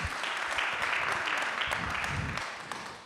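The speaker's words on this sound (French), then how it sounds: "on peut applaudir" A small audience at a convention-signing ceremony gives a brief round of applause, a moderate spread of clapping that holds steady and then fades out after a few seconds.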